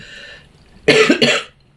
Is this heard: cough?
yes